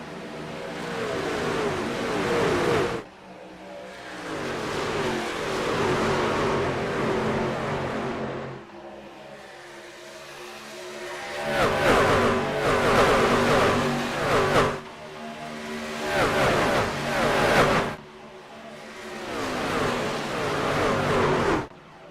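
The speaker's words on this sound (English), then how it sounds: "Green flag back in the air. Racing resumes from Nevada." Race trucks in iRacing at Las Vegas roar past in repeated loud engine surges with revving and gear changes, separated by short quieter gaps, with no talk.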